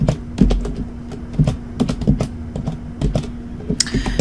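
Fingers tap out a date on a computer keyboard, a quick, uneven run of close, crisp key clicks with brief pauses between bursts, over a faint steady hum and without any talking.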